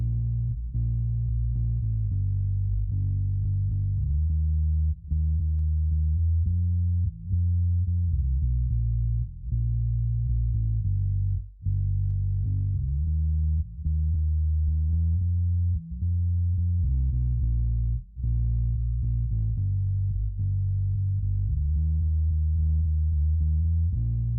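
Heavily compressed bass guitar plays a steady, even-level line, deep and thick, with notes held at nearly constant loudness and brief dips between phrases.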